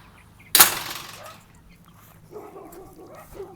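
Dogs bark in the distance near a chicken coop, a sharp loud bang or bark at the start followed by fainter, muffled yips and barks.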